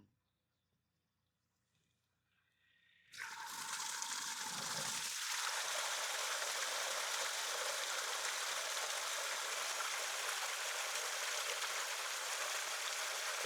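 Water from an irrigation tank tap bursts out under pressure after a few seconds of near silence, then gushes as a loud, steady, close rushing stream that continues without a break.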